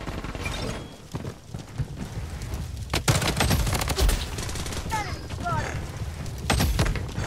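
Bursts of automatic gunfire crackle through a frantic Blood Strike match, with rapid volleys and sharper single shots over constant game noise while players talk throughout.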